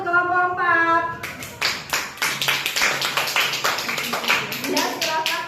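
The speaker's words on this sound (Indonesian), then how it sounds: "kasih tepuk tangan untuk kelompok 4" A classroom group gives a round of clapping for a presenting team, a short burst of sharp, fairly close hand claps that comes just after a voice speaks.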